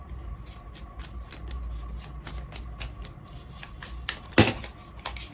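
Tarot cards shuffled by hand, a quick run of crisp riffling flicks close to the microphone, ending in a sharper snap as cards are drawn.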